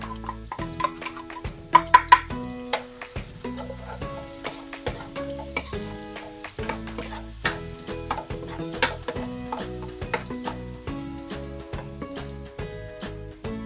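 Garlic and ginger sauté in a pot for beef goto, a steady sizzle broken by frequent sharp clinks and scrapes of a metal spoon stirring against the pot.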